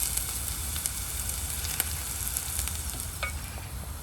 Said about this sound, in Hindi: तेल गर्म होने के बाद एक छोटा साइज़ प्याज इस तरह से काट कर इसको तल लेंगे